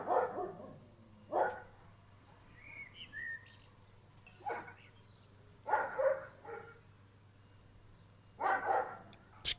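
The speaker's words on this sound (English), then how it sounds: "What are you barking at?" A dog barks outdoors on an evening, several short separate barks at a moderate distance, with birds chirping faintly between them.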